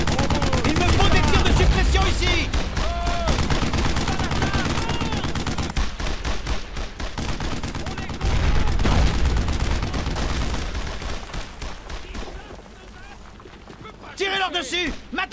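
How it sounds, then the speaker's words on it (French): Suppressing gunfire in the World War II shooter Brothers in Arms: Road to Hill 30, with dense, continuous rifle and machine-gun bursts crackling close by throughout, under shouted soldier voices. "Il me faut des tirs de suppression ici!"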